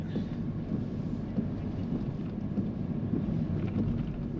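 Strong wind buffets the microphone of a moving car with a continuous low rumble and gusty roar, no voices present.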